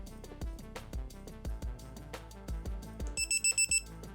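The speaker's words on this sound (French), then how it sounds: "des buzzers peuvent être branchés à la prise d'équilibrage pour vérifier les tensions de chaque élément et du total" A buzzer alarm on a LiPo battery voltage checker plugged into the balance lead sounds a rapid run of shrill electronic beeps, close and fairly quiet, with music-like tones behind and no talking.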